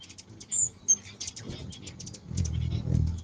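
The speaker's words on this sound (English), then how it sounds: "I hear birds quarreling." Sharp, high bird calls and chattering bursts from quarreling orioles in quick irregular succession, with rustling and low rumbling noise underneath.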